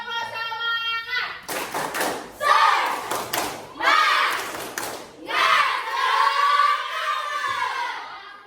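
A group of teachers-in-training at a university session performs a spirit clap routine. Bursts of rhythmic hand claps and thumps alternate with loud chanted voices in a patterned call-and-clap sequence.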